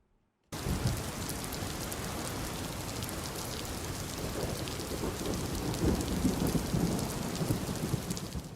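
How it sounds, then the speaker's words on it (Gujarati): Heavy monsoon rain pours steadily on Rajkot during a flooding storm, a dense continuous roar that starts abruptly and stays loud throughout with low rumbling beneath, no voices. "રાજકોટમાં સતત ત્રીજા દિવસે મેઘમહેર જોવા મળી રહી છે"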